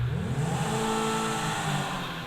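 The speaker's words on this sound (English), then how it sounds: "It's just a high-pitched rev." Lamborghini Sesto Elemento engine in GTA V revving up to a high-pitched, sustained whine, loud and close, with rising tonal harmonics over a steady roar.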